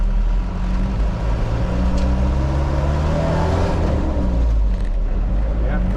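A Land Rover Perentie 6x6 ambulance shifts from first into second gear, its engine droning loud and steady up close with a brief change in pitch partway through.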